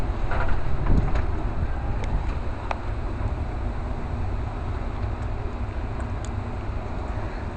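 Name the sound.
strong wind of Hurricane Sandy on a New York balcony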